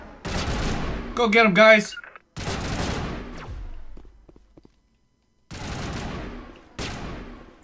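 Gunfire bursts from a shootout in the video game Mass Effect, loud volleys in several separated bursts with quiet gaps, while a voice briefly speaks among the shots.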